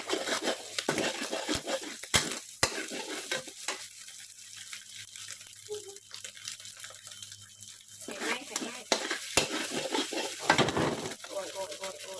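Egg sizzles quietly in a pan while a spatula spreads it, with scraping and tapping strokes and some louder bursts. Someone talks over parts of it.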